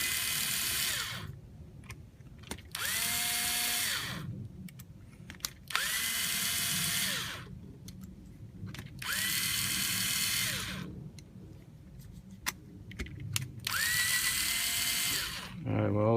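A power tool loosens the screws on an FX airgun's impact valve during a valve stem end reseal, whirring in four loud, close bursts of about two seconds each, with short quiet pauses between them.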